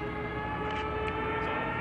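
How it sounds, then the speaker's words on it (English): A steady, sustained wailing air raid siren in a video game drones loudly and continuously, with faint higher whines briefly rising above it, tied to a Stuka dive bomber. "Hear that siren?"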